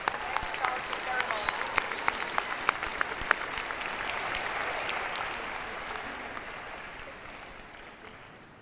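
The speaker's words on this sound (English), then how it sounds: "let's give another round of applause for all" An audience at a School of Education convocation ceremony applauds steadily, with dense clapping swelling and then slowly fading, and some voices mixed in.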